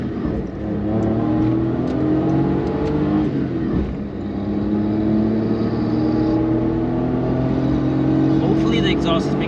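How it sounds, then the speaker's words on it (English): A small Suzuki K6A car engine revs and climbs through its gears, the exhaust buzzing and rising in pitch, with a voice talking over it. "Hopefully the exhaust is picking it up, or the camera's picking up the exhaust."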